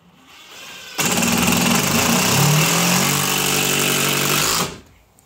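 Power driver running steadily for a few seconds, driving a screw into a floor frame near existing brackets during a garden room build, loud and close with no talk.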